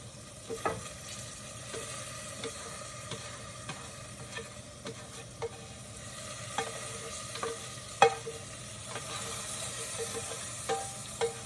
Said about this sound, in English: See how I have to keep stirring it so it doesn't get burnt?